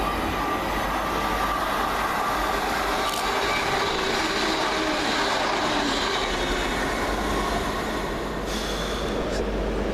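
A Class 170 diesel train rumbles past close by at Bournville station with a steady engine drone and rolling wheel noise, plus a brief metallic squeal near the end.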